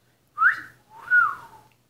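A person whistles two short notes imitating a parrot, a sharp rising chirp followed by a longer swooping tone, clear and close against silence.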